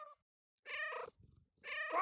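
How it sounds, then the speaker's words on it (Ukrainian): A cartoon cat in the video game CATO: Buttered Cat meows twice, two clear, close, tonal calls separated by a short gap with a faint low rumble between them and no talking. "Можна м'явкати, це вже дуже класна механіка."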